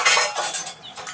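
Metal utensils and dishes clink and clatter together in a kitchen, several quick bright knocks in close succession, near and fairly loud with no voices.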